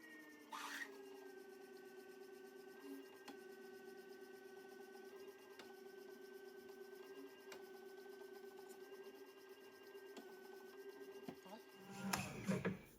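A steady, faint scraping hum from a hand reamer slowly enlarging a hole to just under 5/16 inch in a flywheel part for a six-cycle engine build, continuous and close, ending in a brief louder clatter.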